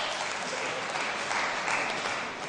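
Sustained applause from a debate audience fills the hall, dense and steady throughout with no voices on top, easing slightly at the very end.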